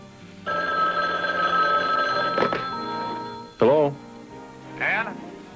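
A telephone rings with a steady electronic trill, near and loud, broken by a couple of thumps and short bursts of a voice.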